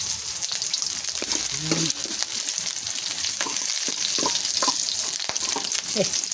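Tilapia and sweet potato leaves fry in a pan with a loud, continuous crackling sizzle, broken by scraping stirs and sputtering pops close at hand, and faint background voices now and then.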